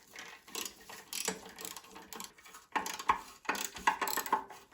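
A ratchet works at rusty bolts on a Ford Fiesta MK7 1.0 EcoBoost engine during a rebuild, giving close, crisp bursts of clicking in short spurts separated by brief pauses.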